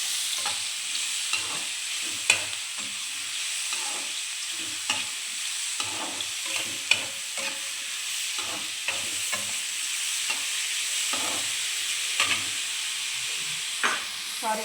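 Mushrooms browning in a hot frying pan, a steady hiss of sizzling oil punctuated by frequent scraping and tapping from a stirring spatula, close up with no talking.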